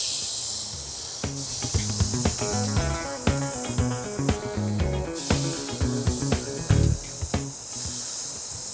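Steaks sizzling on a grill over direct heat, a constant bright hiss running beneath prominent background music.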